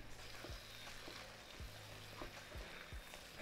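Steamed fenugreek leaves and peas sautéing in a gravy in a pan, with a soft, steady sizzle broken by a few quiet scraping stirs.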